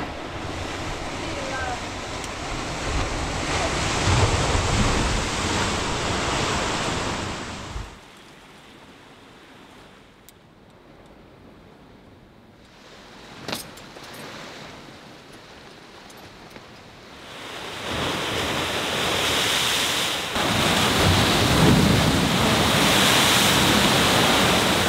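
Waves of the incoming tide break and wash against a sharp limestone sea cliff, a loud roaring surge with wind buffeting the microphone, easing into a quieter lull before the crashing returns stronger.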